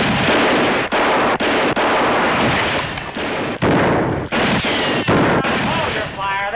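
A Western shootout sounds as a dense, loud barrage of gunshots. Near and sustained, the volleys run almost without pause, with brief gaps between clusters and possible voices mixed in.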